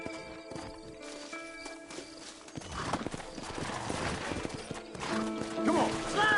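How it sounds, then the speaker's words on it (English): Horses walking in the Red Dead Redemption video game, hooves clip-clopping in an uneven rhythm at close range, mixed with scattered game effects. "Horses are over here!"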